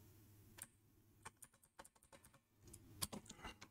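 Short irregular key clicks on a computer keyboard, including presses of the up arrow key, tapping in scattered single strokes and small bursts at a close, quiet level.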